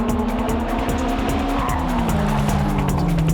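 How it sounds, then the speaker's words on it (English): A Mitsubishi Lancer Evolution and a Honda S2000 attack a mountain pass corner in a touge battle, engines roaring loud and close with a rising-then-falling whine as tires squeal through the turn. "The Lancer is looking good with quick entry speed into the corner"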